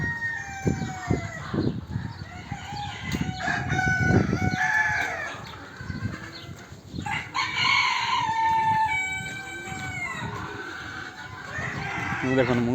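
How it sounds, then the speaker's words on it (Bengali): Chickens, including foreign-breed hens and a rooster, in a garden house yard in Kuwait: repeated clucking and squawks with crowing calls, close by, with someone talking nearby. "দেখেছেন? বিদেশি মুরগি, মুরগিটা কত সুন্দর লাগছে না?"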